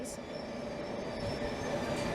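A London Underground Metropolitan line train runs through a station without stopping, a steady, loud rumble of wheels and carriages with a faint high squeal, continuous for the whole stretch.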